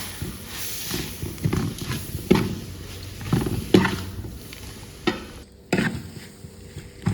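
Noodles and masala are stirred in a pan, producing a series of irregular scraping strokes and soft clacks against a faint sizzle, close and fairly quiet.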